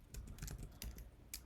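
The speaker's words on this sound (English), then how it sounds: "I'm typing these down on the side" Soft, irregular clicks of typing on a computer keyboard come in short bursts and single taps, faint and close, with no talking.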